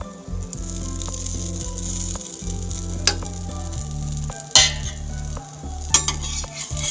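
A pooda sizzles steadily in a hot pan as oil is spread around its edges, with occasional utensil scrapes and clicks over the continuous close frying hiss.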